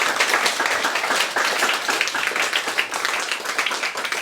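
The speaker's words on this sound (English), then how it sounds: "So can we give a round of applause for our judges today?" Audience applause for the judges at a pitch-to-media evening in London, a dense, steady wash of many hands clapping close by for several seconds with no talk over it.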